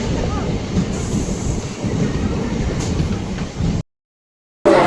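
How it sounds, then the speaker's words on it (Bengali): A Katwa–Bandel local train pulling into Patuli station, a continuous rumbling roar of wheels and carriages close by, cut by a brief dropout of silence before the noise returns. "আর ফাইনালি ট্রেন চলে এসেছে, কাটোয়া ব্যান্ডেল গ্যালোপিং দোকান।"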